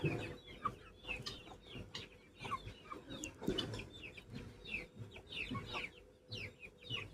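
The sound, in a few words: guinea fowl and chickens clucking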